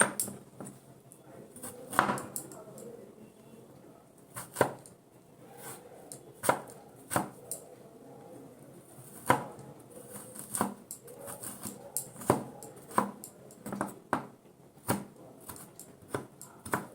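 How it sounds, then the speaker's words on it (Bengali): A knife chops potatoes into small pieces on a board: sharp, quiet taps come at an irregular pace, sometimes in quick pairs, with no other sound around them. "একদম টুকরো টুকরো করে দিচ্ছি"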